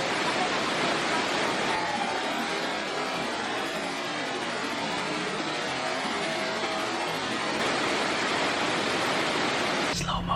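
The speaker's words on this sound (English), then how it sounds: "we went to see one last thing, the Pagudpud Viaduct waterfall," Pagudpud Viaduct waterfall in Ilocos, a steady, loud broadband rush of falling water filling the scene without pause, close and continuous until it cuts off at the very end.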